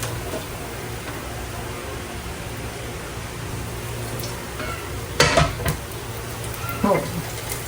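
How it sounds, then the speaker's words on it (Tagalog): Garlic, onion and tomato sautéing in a pan over low heat, a steady soft sizzle with a few sharp stirring clatters near the end. "Tayo po ay magigisa na po muna ng bawang, sibuyas. Kasama na rin po yung kamatis."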